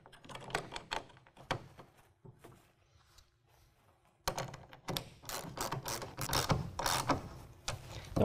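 A tonneau cover rail clamp goes onto a truck bed with sharp clicking, ratcheting and metallic taps in irregular bursts, quieter at first then busier and louder, with no talk.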